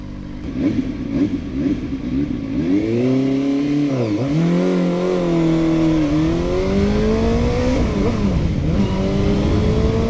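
A CFMOTO four-cylinder motorcycle engine revs up and down loudly at close range, its pitch rising and dipping several times in a smooth, multi-cylinder whine.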